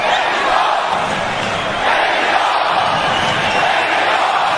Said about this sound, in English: There is no question about this crowd being into this fight.